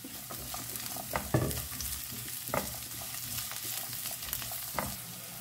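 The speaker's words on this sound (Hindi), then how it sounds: "तो अब इसमें डालते हैं अदरक, चिली और ये लहसुन, और इसे ना अच्छे से फ्राई कर लेते हैं।" Onion, garlic, ginger and chili frying in a pan, a soft continuous sizzle with occasional stirring scrapes and clinks, fairly quiet and close.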